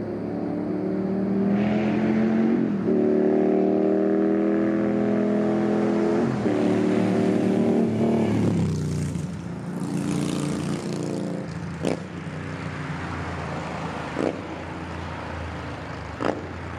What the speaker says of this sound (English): The only thing that the Trask slip-ons do is that it gives it some kind of deep rumble rather than